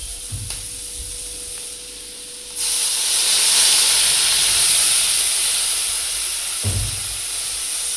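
Water poured into a hot pan of spiced onions with turmeric and salt bursts into a loud, steady steam hiss and sizzle after a few soft clinks, then continues as a sustained hiss with a brief knock near the end.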